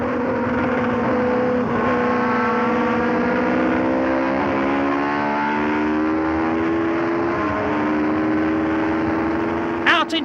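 Pironi's Tyrrell Formula 1 race car, heard from its onboard camera during a classic flat-out lap: a loud, steady, high-pitched engine howl with brief pitch dips as it lifts and shifts, ending in a short sharp burst.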